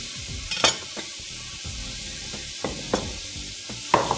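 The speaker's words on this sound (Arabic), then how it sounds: "هنشيك الفراخ." Chicken pieces sauté in a pan with a low sizzle, broken by a few sharp utensil clacks and scrapes as they are stirred, quiet and close, no voices.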